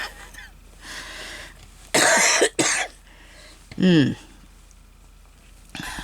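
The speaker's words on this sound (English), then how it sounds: "Try not to cough." A few sharp coughs, one strong burst followed quickly by another and a later one, with a person talking quietly between them.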